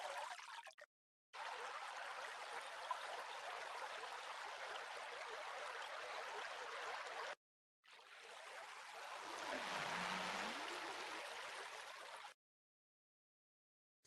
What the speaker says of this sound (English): This is a very low fidelity particle simulation of bubbles.